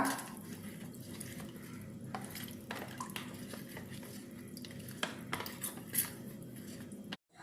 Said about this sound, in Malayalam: നന്നായിട്ട് കട്ടയില്ലാതൊന്ന് മിക്സ് ചെയ്തെടുക്കുക